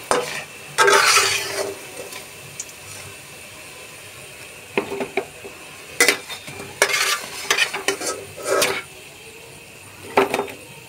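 Raw banana koftas frying in a pan over low heat, with soft sizzling under repeated bursts of scraping and turning as the pieces are flipped with a utensil, loud and close.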